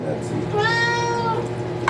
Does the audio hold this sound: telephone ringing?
no